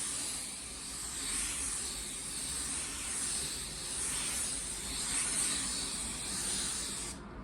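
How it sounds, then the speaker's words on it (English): A spray gun applies clear coat over car paint at just under 2 bar pressure, giving a steady close hiss that runs unbroken for several seconds before cutting off abruptly. "Normally I spray my clear right under 2 bar pressure."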